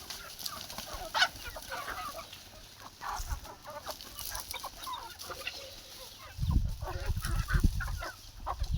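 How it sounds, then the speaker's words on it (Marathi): Farm hens clucking near a barnyard, several birds giving short repeated clucks and calls at moderate distance, with low bursts of handling noise or movement toward the end and no talking. "ह्या आमच्या कोंबड्या"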